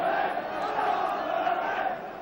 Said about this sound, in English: Crowd trying to get behind their team.